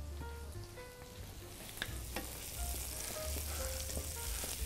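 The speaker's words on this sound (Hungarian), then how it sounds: "Pirul szépen nekem a hagymám." Onions frying and browning in a pan, a soft continuous sizzle with faint crackles and pops, quiet and close, with no voices.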